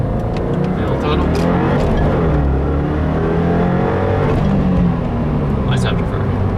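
A 2015 Subaru WRX with a Stage 1 map pulls hard at full throttle in first gear, its loud, steady engine roar rising continuously, with a brief crackling afterfire near the end; a voice talks over it.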